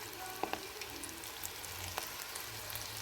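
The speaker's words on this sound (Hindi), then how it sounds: "ये देखिए ऑयल गर्म हो गया है। अब हम ऑयल में पकोड़े, हाथ से पकोड़े डालेंगे" Spinach and potato pakoras dropped into hot oil, a steady soft sizzle and crackle with a few sharper pops near the start, close up and without talk.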